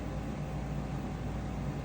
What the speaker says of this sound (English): I'm hearing the air conditioner.